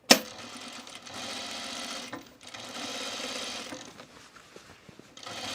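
A sewing machine stitches in two sustained mechanical runs, pausing briefly between them and then giving short intermittent bursts, while understitching a top.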